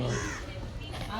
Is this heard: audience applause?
no